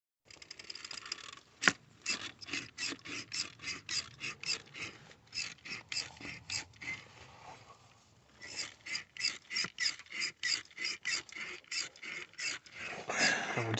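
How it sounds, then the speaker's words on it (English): Hand pump forcing cleaning fluid into the diesel particulate filter of a Range Rover L405 4.4 SDV8; quiet, rhythmic rasping strokes repeat in quick succession, pause briefly midway, then resume at a steady pace. "Then we can start pumping the fluid in."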